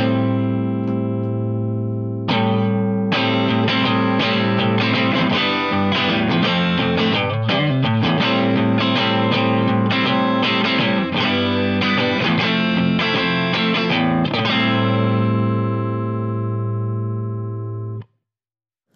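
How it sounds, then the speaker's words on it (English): A fuller, thicker electric guitar tone through a Boss CE-1 reissue chorus pedal's preamp rings out in sustained strummed chords with a shimmering effect, played steadily for about fifteen seconds before cutting off. "When I engage the preamp, we should hear it fatten up a bit."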